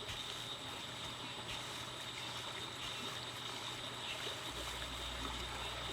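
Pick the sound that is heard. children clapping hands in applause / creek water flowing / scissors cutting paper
creek water flowing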